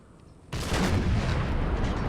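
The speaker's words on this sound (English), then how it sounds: "Now we're gonna have our cannons open up on the Spanish forces here." Battlefield cannons opening fire on Spanish forces in the Imperial Splendour strategy game, a sudden boom followed by sustained dense gunfire and rumbling artillery that carries on loudly without letting up.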